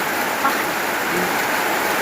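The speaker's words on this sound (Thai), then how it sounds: "ฝนตกมาอีกแล้ว" Heavy rain pours down steadily during a storm in rural Thailand, a dense, constant hiss of falling water with no talk over it.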